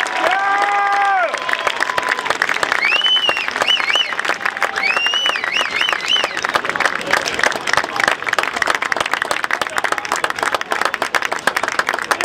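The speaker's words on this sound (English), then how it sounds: "how about a nice round of applause for our honorary captains" Crowd at a college football game between Catholic University and Shenandoah claps and cheers for honorary captains, opening under amplified PA speech, then steady loud applause carries on.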